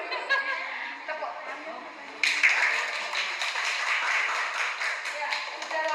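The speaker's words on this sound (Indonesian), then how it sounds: "Tepuk." Hands clap in a classroom card game during a social-emotional learning activity, a burst of applause breaking in partway through and continuing steadily, with voices and light laughter mixed in.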